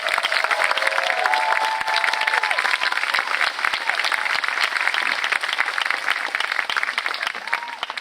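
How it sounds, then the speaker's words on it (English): Sustained applause from a commencement crowd honoring political science graduates, dense and steady for the full stretch, loud and close with a few faint voices mixed in. "one more round of applause for our graduates"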